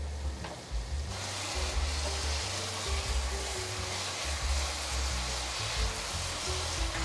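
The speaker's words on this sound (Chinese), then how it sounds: "黑芝麻来一些，快速的翻炒，把调味料炒至融合。" Loofah and tofu stir-frying in a wok with rose salt, white pepper, soy sauce and black sesame, a continuous loud sizzle with scraping and tossing bursts over several seconds, close and unbroken.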